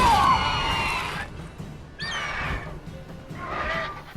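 A horse in The Witcher 3 video game lets out a loud whinny at the start, followed by shorter cries and stirring sounds, with no talking.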